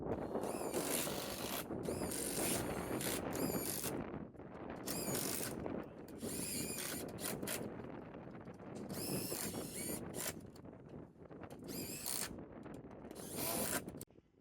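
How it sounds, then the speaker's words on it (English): On a contractor-built attached pergola, a crew drives screws into the ledger board with a power drill, giving repeated bursts of whirring and ratcheting separated by short pauses, fairly close and busy. "The crew fastens down the screws on each end of the ledger board and then proceeds to fasten down the"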